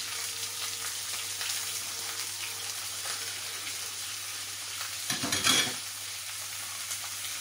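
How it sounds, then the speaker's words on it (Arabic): Onion and garlic sauté with chicken in a pan, giving a steady, quiet sizzle that swells into a brief louder burst of frying and stirring near the end. "هكمل تشويح بيها لحد ما البصله والثومه ياخدوا لون الدبلان"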